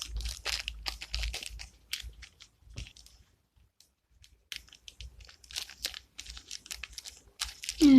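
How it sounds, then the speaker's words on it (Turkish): Paper napkins being taped together for Barbie doll miniatures, with bursts of crinkling and tearing tape close by, a quieter pause in the middle, then more rustling handling toward the end. "Bu şekilde şimdi bunu böyle biraz bantlayacağız."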